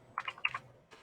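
Typing on a computer keyboard, a faint cluster of quick soft clicks followed by a pause and one more light tap, close by and quiet.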